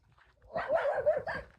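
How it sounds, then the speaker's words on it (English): Dogs bark and yip in a short, close cluster of several rapid barks outdoors. "Dogs everywhere."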